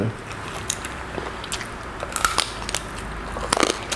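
Homemade crispy pork crackling being bitten close up during a Thai meal of som tam with fermented fish sauce: several sharp, crackly crunches and chewing, growing denser toward the end, over a low background murmur.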